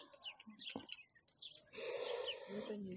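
Small birds chirp and sing outdoors near a village garden, bright scattered tweets and trills over a faint background, with a denser burst of song toward the end.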